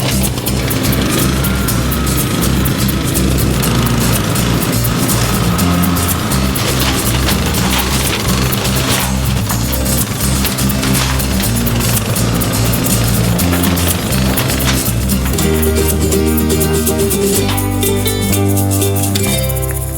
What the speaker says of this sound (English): the easiest way to chop it all up into smaller bits is to mow it